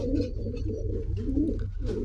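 American Saint pigeons coo steadily in low, rolling murmurs, a few overlapping birds close by with brief soft chirps above.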